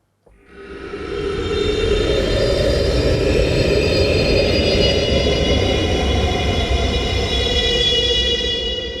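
A phased-array noise patch from Orchestral Tools' Fabrik sound design library: a dense, steady drone swells in within the first second and holds at a constant loud level, with shimmering tonal bands layered over a rumbling low end.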